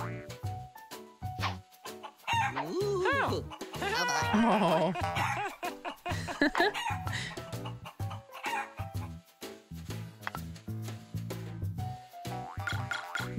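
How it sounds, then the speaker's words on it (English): A chicken clucks and crows in a cartoon-style children's learning show, a series of loud, close calls with bouncy, playful effects and a brief voice between them. "color crew. Chicken."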